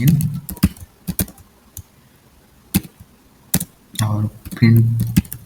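Scattered keystrokes on a computer keyboard while C code is entered in VS Code, sharp isolated clicks with pauses between them and brief bits of voice toward the end.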